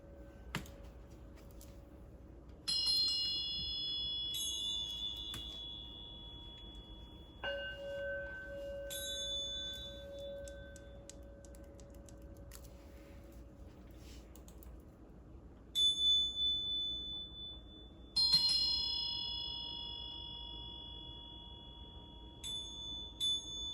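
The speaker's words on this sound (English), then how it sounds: "Play the bells, please." Chimes or bells are struck several times with long gaps between strikes. Each strike is a clear, bright ring that decays slowly, heard alone in a quiet room.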